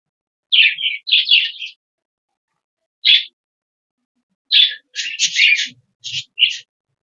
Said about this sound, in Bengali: দেখতেই পাচ্ছেন যে ককটেল পাখিটা দিয়েছি সব ককটেল পাখি খাচ্ছে